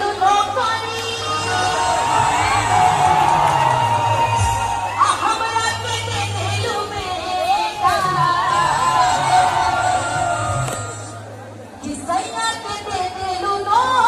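Large crowd at a Dussehra fair stage show, cheering and chattering steadily, with music and voices mixed in throughout.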